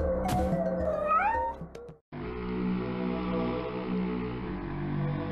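A cat in the video game Bad Mojo lets out a few loud, rising meows up close, then gives way to a steady droning game soundtrack.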